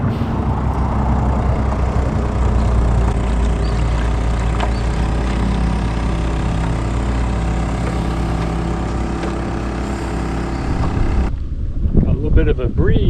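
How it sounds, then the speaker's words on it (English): Steady broadband wind rushing against the microphone with a low rumble on a river while kayaking, continuous and fairly loud, ending in a few gusty buffets. "Bit of a breeze picking up behind me"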